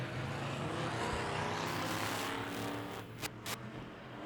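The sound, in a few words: stock cars racing on the Tulsa Speedway track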